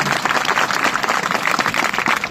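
Dense, continuous applause from a crowd at a community gathering fills the whole stretch, loud and close, with many hands clapping at once.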